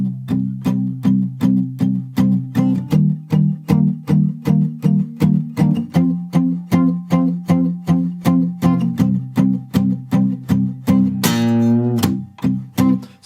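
Guitar playing the first verse of a song, a steady chugging palm-muted A5 rhythm of even, driving strokes, ending with a louder ringing strum.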